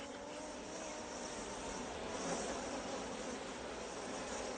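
Honeybees buzzing in a beekeeper's home garden where honey is made the traditional way, a steady, soft, continuous hum that holds at the same faint level throughout with no voices.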